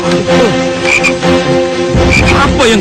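A frog croaks loudly and close by in a dramatized Indonesian legend, repeated rasping calls over about three seconds with no speech.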